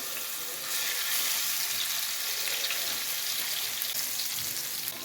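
Ginger and garlic fry in oil with cumin seeds, giving a steady close sizzle throughout, louder after the first second, with light stirring and no voices.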